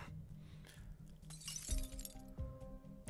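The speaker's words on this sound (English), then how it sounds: "A cup shatters" A cup shatters in a story scene: a sharp crash of breaking ceramic pieces with bright clinking shards, standing alone over a soft musical backdrop.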